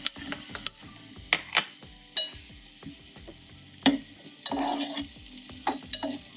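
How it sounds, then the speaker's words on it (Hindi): Onions sizzle and fry in a hot pan over full heat while a utensil stirs and scrapes against the metal in irregular bursts, close by, no talking. "प्याज को गोल्डन ब्राउन होने तक हम पकाएंगे"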